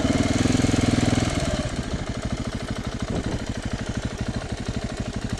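A motorcycle engine with a steady rumble that drops into a fast, even thumping idle, close and fairly loud, with no talking.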